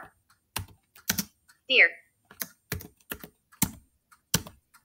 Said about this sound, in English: I'm going to type in a couple words